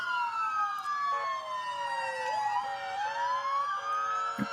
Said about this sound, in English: So they sent an ambulance for her.